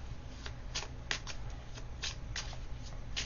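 Tarot cards are shuffled close by in a steady series of riffling, papery slaps and soft flicks, alone with no talking over them.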